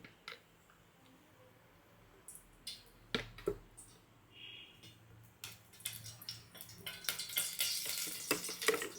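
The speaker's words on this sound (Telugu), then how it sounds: "ఇలా మనం తాలింపు పెట్టేసుకోవచ్చు" Spices for a tadka temper in hot oil for a tomato, amaranth-leaf and red lentil rasam. Faint scattered crackles and pops come first, then build into a steadier, louder sizzle with sharp spattering toward the end.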